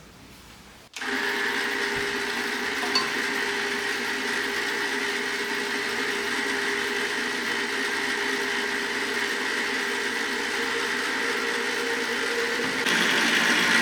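An ice cream maker churning Greek yogurt ice cream gives a steady, loud mechanical whir with a constant motor hum, starting abruptly after a brief quiet moment and running on unchanged.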